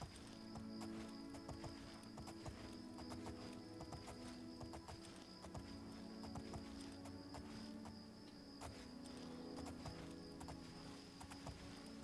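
Horse hooves clip-clop in a steady, rapid rhythm in the fantasy video game Oblivion, close and continuous over a bed of ambient game sound and faint bird calls.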